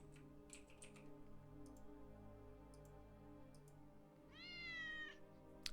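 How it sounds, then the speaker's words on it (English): A cat meowing in a video game, one drawn-out meow near the end, preceded by faint keyboard typing and mouse clicks over a quiet background hum. "Finally, a cat."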